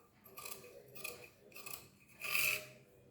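Scissors cut blouse sleeve fabric up close, giving four soft rasping snips in a steady rhythm, the last one longest and loudest, with no talk.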